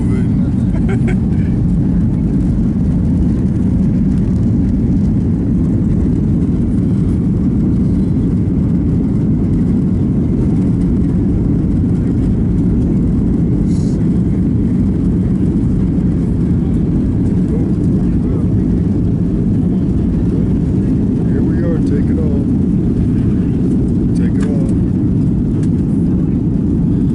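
Airliner cabin during a flight, filled with a loud, steady low engine rumble throughout, with faint voices underneath.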